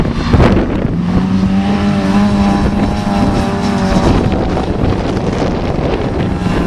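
Autograss class 4 race cars roar past side by side in a final on a dirt track, loud engines rising and falling with a sustained drone and wind buffeting the microphone.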